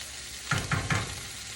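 Onions sizzle in a hot pan for a leafy greens fry with dried chillies, with three quick stirring scrapes in a row against a steady frying hiss, close and fairly soft.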